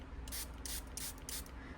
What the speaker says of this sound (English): I'm gonna spray it because it's pretty much dry.